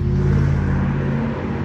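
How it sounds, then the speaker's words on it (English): A car with a loud muffler rumbles past nearby, a deep throaty engine roar that fills the whole short moment at strong volume and begins to ease off at the end, with no talk. "Apparently that car needs to have a loud muffler."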